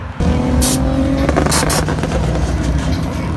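A car scrapes its underside on the pavement at a Southlake Cars and Coffee meet, giving a few short, harsh grinding bursts over a loud, rumbling engine nearby.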